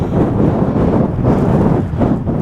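Strong, fresh wind blows outdoors on a Scottish road trip, a loud continuous roar buffeting the microphone in low rumbling gusts, no speech.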